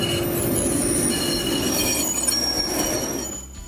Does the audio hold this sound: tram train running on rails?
yes